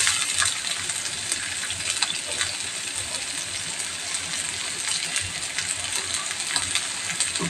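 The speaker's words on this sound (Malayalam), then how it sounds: "വഴറ്റിയെടുക്കാം." Finely chopped onions sautéing in a pan for paneer pepper masala, a steady crackling sizzle with scattered pops and light stirring clicks, close and continuous.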